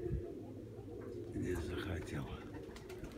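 A white-winged pigeon coos low and soft close by, its murmuring calls running under a man's speech.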